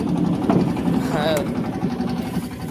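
A boat engine runs in a steady low drone throughout, with people talking over it.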